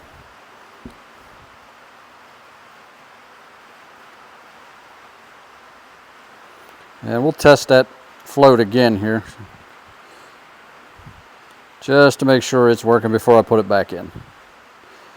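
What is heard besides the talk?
rain falling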